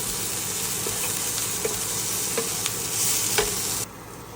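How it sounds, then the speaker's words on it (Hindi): Ginger garlic paste sautés in a little oil in a pan over medium-high flame, a steady close sizzle with a few soft stirring scrapes, no talking. "मैंने इसमें जिंजर गार्लिक पेस्ट भी ऐड कर दिया है, इसको भी सौटे कर लेंगे"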